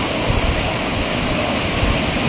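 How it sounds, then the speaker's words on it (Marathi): A tall waterfall roars loud and constant, a dense unbroken rush of falling water heard up close. "ह्याला दिसू लागला आता धबधबा किती उंच आहे"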